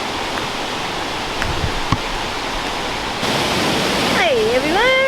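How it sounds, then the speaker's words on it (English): Steady broadband rush of the waterfall at Mila Mila Falls, constant and fairly loud throughout, with a brief thump and a voice speaking over the water near the end. "You can hear the waterfall?"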